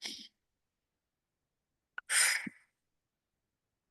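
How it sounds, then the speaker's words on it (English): During a calm EFT tapping session, a deep breath is drawn in and let out as a soft, close sigh-like rush of air, with a brief breathy sound before it and quiet pauses around it. "we just pause and take a breath"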